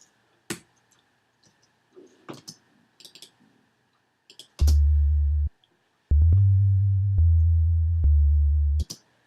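After scattered soft clicks, a deep sustained synth sub bass tone sounds in long notes, one short and then a longer stretch that shifts slightly in pitch.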